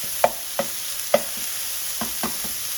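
Bacon pieces cooking in a pan give a steady low sizzle, broken by a handful of sharp clicks and scrapes from stirring, spaced irregularly, with no voices.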